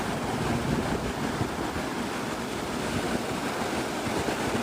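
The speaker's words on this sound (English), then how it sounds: "I just enjoy the waves." Steady ocean surf on a South Carolina shore at sunrise, a constant broad wash of breaking waves mixed with wind buffeting the microphone, continuous and fairly loud with no talking.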